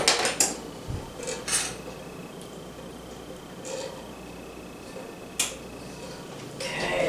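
Scalloped potatoes with Swiss cheese and kielbasa sausage being assembled, potatoes and cream going into a pan with a few faint clinks, scrapes and soft utensil taps scattered over quiet kitchen background.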